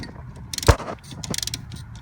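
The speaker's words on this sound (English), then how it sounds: "if the bolt's tight, I can very easily get it loose with my ratchet" A ratchet works loose the bolts on a Mazda 3 front brake caliper during a wheel bearing job, giving a metallic clunk followed by quick clicking ratchet strokes up close, with no speech.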